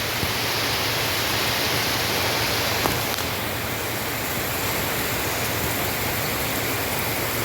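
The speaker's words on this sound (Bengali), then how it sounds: "ঝমঝম করে বৃষ্টি পড়ছে।" Heavy rain pours down in a dense, unbroken wash of hiss, steady and fairly loud throughout, with no one speaking.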